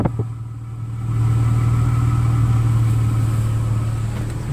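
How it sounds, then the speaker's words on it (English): A Nissan Xterra 3.3's exhaust rumbles steadily at idle after a random misfire fix with six new injectors, a deep continuous drone close by that swells slightly after the first second. "you can hear the exhaust"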